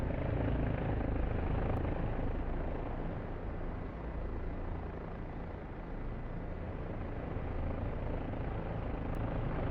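Steady helicopter rotor and engine drone in the DCS flight simulator, continuous and fairly loud throughout with no talk.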